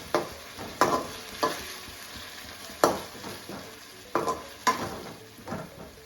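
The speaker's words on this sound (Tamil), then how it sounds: "இந்த பச்சை வாசனை போகிற வரைக்கும் நல்லா வதக்கணும்." Spicy green beef fry sautéing in a pan, with a soft continuous sizzle broken by about eight sharp scrapes and knocks of the spoon against the pan, close and with no voices.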